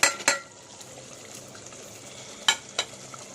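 A ladle stirs gravy with dry spices as it fries in a pan, with a steady low sizzle and a few sharp metallic clinks of the utensil against the pan, close by.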